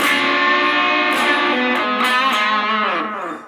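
Electric guitar played through a small portable battery-powered practice amplifier with distortion, sustained overdriven chords and notes ringing loud and steady, no talk.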